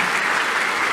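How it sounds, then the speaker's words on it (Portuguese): Audience applause at a Ruby/Rails developer conference talk, a dense, steady patter of clapping from a roomful of people lasting the whole moment without a break. "salve de palmas aí"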